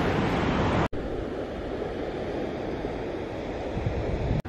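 Ocean waves break on a beach on Portugal's Silver Coast, a loud, constant wash of surf mixed with wind rumble against the microphone, with no talking.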